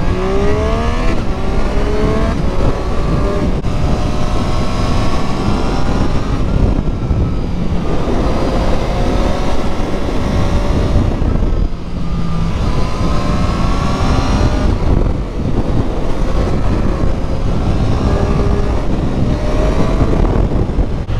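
A Triumph Street Triple 765 motorcycle engine revs and accelerates hard on the road, loud and close. Rising and falling engine tones come in repeated pulls, with steady wind rush over the microphone throughout and no talking.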